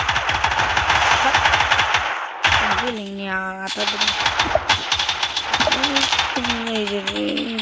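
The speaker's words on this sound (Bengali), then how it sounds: "গুলি মারিতেছে" Rapid bursts of machine-gun fire rattle loudly and almost continuously, with brief pauses and some tonal game effects mixed in.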